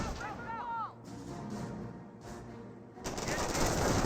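Rifle and machine gun fire rattle across a Company of Heroes battlefield, with repeated sharp reports and bursts over steady background battle noise, ending in a louder, denser barrage.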